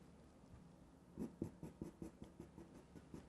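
Soft, quick pencil strokes scratch across paper in an irregular rhythm over pastel work, close and quiet, with no talking.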